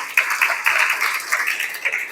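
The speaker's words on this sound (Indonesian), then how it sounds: "Terima kasih, tepuk tangan." A crowd applauds steadily at a send-off ceremony for Karawang Regency athletes, dense clapping from many hands sustained throughout, fairly loud and close.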